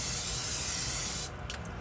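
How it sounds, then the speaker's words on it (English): Cooking spray hisses in a steady, loud aerosol burst onto a piece of chicken for satay, close up, stopping abruptly and leaving a quieter room. "I'm gonna flip it over and spray some cooking spray on this side"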